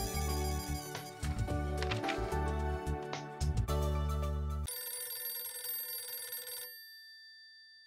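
A telephone bell rings loudly in a few repeated bursts, then a sustained electronic ring tone takes over before cutting off into silence.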